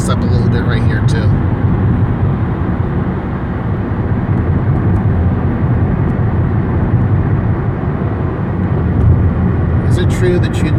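Seattle road traffic at a busy spot near a light rail line gives a continuous low rumble of vehicles, loud and close throughout, with brief faint sounds at the start and end.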